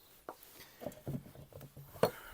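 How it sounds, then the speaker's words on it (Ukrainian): Onion chopped with a knife on a board: a handful of irregular, close, fairly soft thuds spread across a quiet moment, one sharper knock near the end. "рубаємо цибулю"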